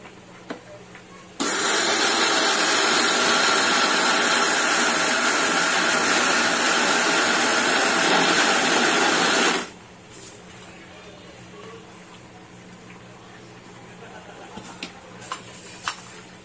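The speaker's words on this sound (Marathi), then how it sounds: "आता मी हे मिक्सर मध्ये वाटून घेते" A kitchen mixer grinder grinds soaked urad dal for idli batter, a loud steady whirring roar for about eight seconds that starts and stops abruptly, with quiet kitchen clatter before and after.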